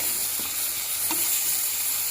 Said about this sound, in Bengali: আর কাঁকড়াগুলো ভালো করে একটু ফ্রাই করে নেব তার সাথে